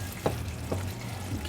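A spoon stirs salt into shakshouka in a pan, giving a short run of soft scraping strokes over a low simmering sizzle, close and fairly quiet.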